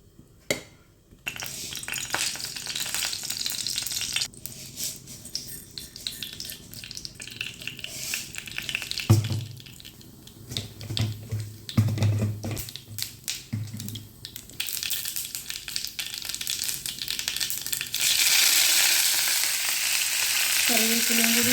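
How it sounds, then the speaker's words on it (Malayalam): Mustard seeds tempering in hot oil in a small pan for a dal and mixed vegetable curry, giving a loud, sustained sizzle with bursts of crackling and popping. "ഇനി കറിയിൽ കടുക് കാച്ചി വയ്ക്കുക"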